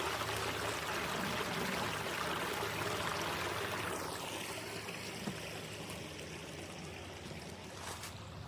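Water runs down a creek along the Rocky Ridge Trail, a steady close rushing and trickling that softens slightly toward the end, with no one talking.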